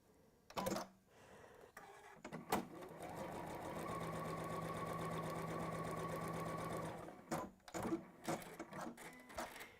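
A sewing machine stitches a fabric seam in one steady, even whirring run of a few seconds, with soft handling clicks and rustles before and after.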